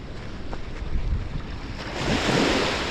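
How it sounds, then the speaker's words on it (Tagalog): Strong wind roars and buffets the microphone in a continuous rush, gusting louder toward the end, with a surf-like wash underneath. "medyo malakas po ang hangin"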